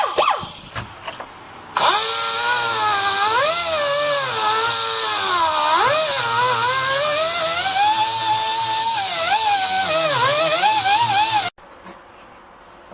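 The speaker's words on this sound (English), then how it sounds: "We use air tools here, so we're going to use this air grinder." Pneumatic air grinder cutting boat fiberglass, a loud high-pitched whine that holds for about ten seconds, pitch dipping and wavering as the bit bites into the material, close up, preceded and followed by brief handling noises.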